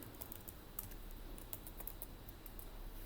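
Code typed on a computer keyboard for PySpark work, a faint patter of light key clicks in an uneven stream over a steady background hum, with no talking.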